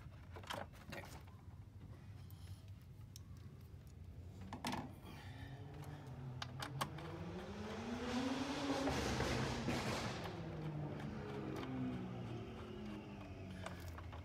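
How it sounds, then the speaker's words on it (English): A car drives past on a residential street, its engine and tires swelling to a peak and then fading away, heard from a driveway where someone is working on a 2005 Chevrolet Avalanche. "That's my neighbor in his shitty car."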